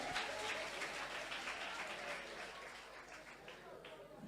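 Sustained audience applause from a crowd, a steady wash of clapping that fades slightly toward the end, with voices mixed in.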